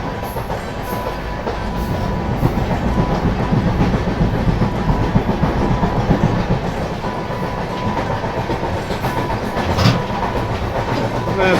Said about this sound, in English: On the train to Goa.